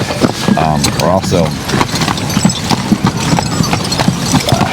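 Heavy Suffolk Punch draft horse hooves clip-clop steadily on a hard surface, loud and close, with voices talking over them.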